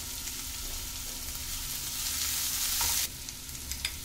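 Vegetables stir-frying in a pan for vegetable masala Maggi noodles give a steady, close sizzle and crackle throughout, swelling slightly louder toward the end before easing off, with no one talking.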